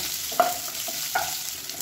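A handful of onions sizzles and fries in a hot pan as part of a beetroot lunch dish, a steady close hiss broken by two or three brief spoon scrapes while stirring.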